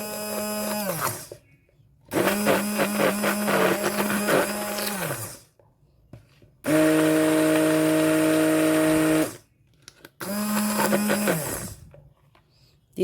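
An electric mixer beats homemade Lotus spread in a bowl, whirring loudly in several bursts of a few seconds each, with brief quiet pauses between runs.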